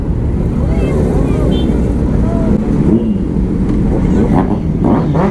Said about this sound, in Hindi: तो गाइस सभी बाइक्स निकल रही हैं यहाँ से